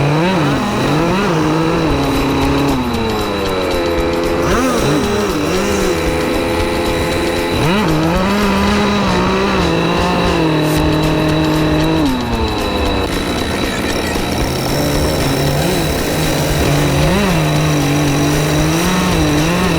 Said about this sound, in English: The karts maintain formation as they approach the start line, keeping speed steady and tires warm.